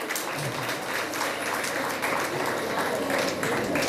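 An audience claps at a book release ceremony, a dense continuous round of applause from a crowd, steady and loud throughout with some voices underneath.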